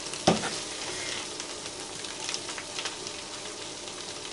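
Meat and potatoes simmer and sizzle in a pan with a steady, close frying crackle. A sharp clink near the start is followed by soft bubbling that continues to the end.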